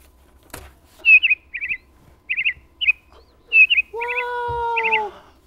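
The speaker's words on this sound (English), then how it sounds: "I was just telling him about the bird I saw on the way here" A bird chirps in short, quick bursts of bright trilled notes with gaps between them, close and clear, followed near the end by a longer sustained whistled tone.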